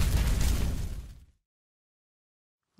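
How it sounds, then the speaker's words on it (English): A home burning to the ground in the survival video game Project Zomboid: a loud, dense crackling, roaring burst of fire that fades out after about a second, followed by silence and a brief return of sound at the end. "Oh, my home is burning to the ground."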